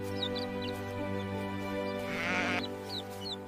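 A cartoon sheep on a farm bleats in a loud, wavering cry that runs steadily through the moment, joined by short high chirps, with no talk over it.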